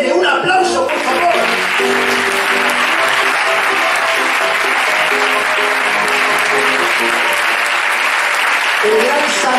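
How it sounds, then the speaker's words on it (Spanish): Loud, sustained applause fills a youth and adult theatre workshop performance at a municipal library, with dense clapping from the audience and voices heard over it. "¡Un aplauso, por favor!"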